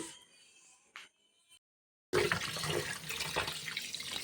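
Water pours steadily into a cooking pot to boil rice for biryani, a loud splashing rush that starts suddenly after a few quiet knocks and faint sounds.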